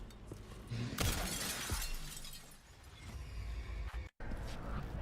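Glass tiles shattering in Demon's Souls after a thrown grenade, a loud crashing burst of breaking glass with scattered debris continuing over several seconds of busy game noise.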